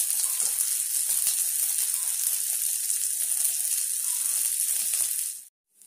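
Pomfret fish pieces fry in hot bubbling oil, giving a loud, continuous close sizzle with crackling spatters that holds steady and then cuts off abruptly near the end.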